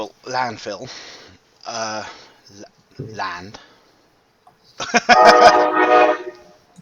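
Train sound effect during a tabletop Dungeons & Dragons session, a loud, blaring horn-like blast lasting over a second that comes after stretches of talking.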